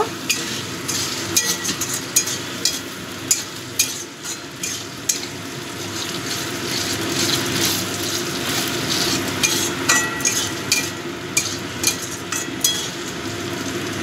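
A spoon stirs duck egg curry masala of onion, garlic and tomato in a pan, with a steady sizzle of frying and repeated scraping clicks against the metal. The stirring continues alone, with no talking.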